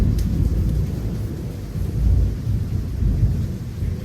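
Thunder during a thunderstorm in Ubud, a loud, continuous low rumble rolling and swelling over rain noise, with no talk.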